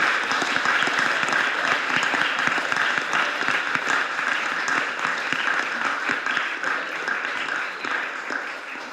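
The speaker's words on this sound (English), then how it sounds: "Mike, we said we'd clap you when you came in," Council members at a full council meeting give dense, steady applause that carries on without a break and eases slightly toward the end.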